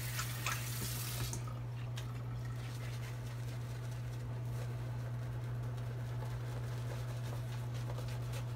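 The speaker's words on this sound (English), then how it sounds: "Some more water." Water runs steadily from a tap at a sink while a badger shaving brush is lathered with Pall Mall shaving soap, a constant hiss over a low steady hum, with no talking.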